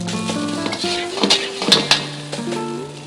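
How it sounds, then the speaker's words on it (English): Fried rice with meat and vegetables tossed in a hot pan, giving a busy stir of scraping and clinking utensil against metal over a low steady sizzle, with a few sharper clanks near the middle. "I'm tossing it to combine the flavors of the meat and vegetables with the rice."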